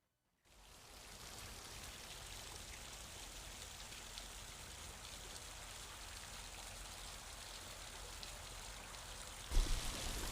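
Water streams steadily down a homemade backyard waterfall, a constant close rushing splash that stays even throughout, with a brief louder splash near the end.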